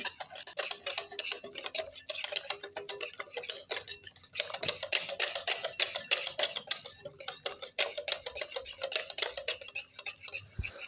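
Fruit cake batter being mixed in a bowl with a utensil, a fast, continuous run of clinking and scraping strokes, close and fairly loud, with a brief pause midway.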